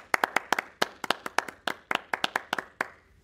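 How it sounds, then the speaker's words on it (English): A small congregation at a church service claps by hand, sharp distinct claps in an uneven rhythm for a few seconds, fairly close. "let's give these pastors a big round of applause"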